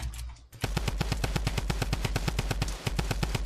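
Rapid automatic gunfire from a Fortnite Season 4 match, a fast evenly spaced burst of sharp shots running almost continuously after a brief quieter start, loud and close.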